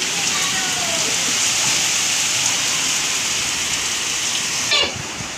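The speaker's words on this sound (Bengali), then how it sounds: "দেখো কিরকম বৃষ্টি হচ্ছে।" Heavy rain pours in a dense, steady hiss close by, unbroken for several seconds before a brief knock near the end, after which the downpour sounds slightly muffled.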